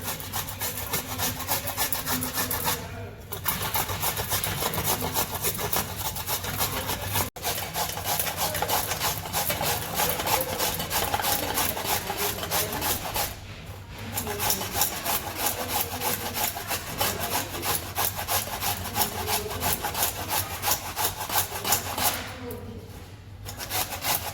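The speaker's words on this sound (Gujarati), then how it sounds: "આપણે પહેલાં ગાજર છીણી લઈશું. હા, આવી રીતના છીણી લેવાના બધા ગાજર." Carrots are grated for carrot halwa in a steady, continuous rasping that runs close and loud almost without pause, broken by two or three brief gaps.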